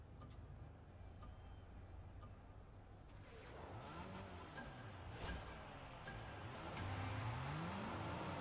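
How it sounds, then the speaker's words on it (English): Car engines rev at the start of a race in the video game Fortnite, a steady droning roar that climbs in pitch and grows louder toward the end. "Start your engines."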